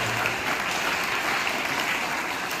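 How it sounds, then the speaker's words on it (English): Steady audience applause fills a school auditorium during an investiture ceremony, a continuous even wash of clapping with no voices. "Let us all give a big round of applause to Mr."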